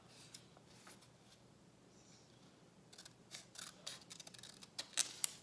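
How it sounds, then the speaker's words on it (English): Scissors snipping paper along a dotted line, a series of faint, quiet close-up cuts that grow more frequent and sharper toward the end. "put her scissors on the dotted line and I'm gonna snip very carefully"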